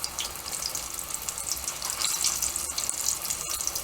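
Flour-coated chicken wing lowered into hot oil, a loud, steady crackling sizzle with bright hiss, close up and unbroken for the whole stretch.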